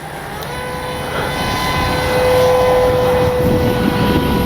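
Dynam Hawksky V2 RC power glider flies overhead, its electric motor and propeller giving a steady buzzing drone that rises and swells slightly as it passes, fairly loud and continuous with no voices.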